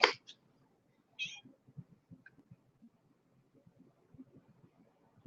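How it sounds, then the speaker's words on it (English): A cat wandering around indoors gives a couple of short, faint meows near the start, followed by quiet low rumbling and soft background noise. "There's a cat and he's wandering around behind me."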